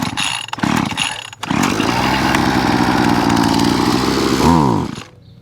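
An Einhell petrol lawn mower engine being choked and started: a few brief stuttering pulls, then the engine catches and runs loud and rough at a steady rattle, briefly revving up before shutting down near the end.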